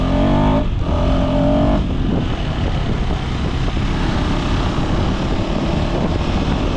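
A KTM 390 Enduro R motorcycle rides over varied terrain, its engine droning loudly and continuously close to the microphone, with a brief rev change early and heavy wind buffeting throughout.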